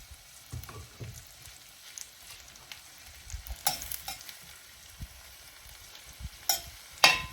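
Mushrooms sauté in a pan for beef stroganoff with a quiet sizzle, broken by scattered scraping stirs and clacks of a utensil, one sharper knock near the end.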